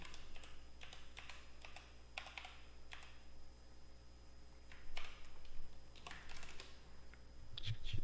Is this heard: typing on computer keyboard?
yes